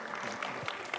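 Studio audience applause on a Korean TV competition show during a ranking announcement, a steady dense wash of clapping throughout the short moment.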